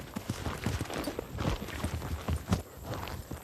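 Horse hooves clip-clop in a quick, steady rhythm over rough farm ground, close by, with light background noise throughout.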